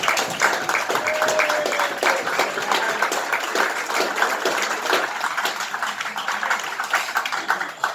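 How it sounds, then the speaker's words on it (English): Crowd applause for a group of visitors from Peru at a cricket club farewell gathering, dense steady clapping sustained throughout with a faint murmur of voices underneath. "I'm going to ask all of the people from Peru to give you a big round of applause"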